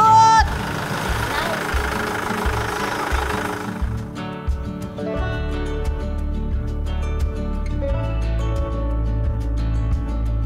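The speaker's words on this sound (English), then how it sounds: "We're gonna ride the tractor now." A farm tractor engine runs nearby with a low, throbbing rumble that grows steadier and stronger partway through, while people chat over it.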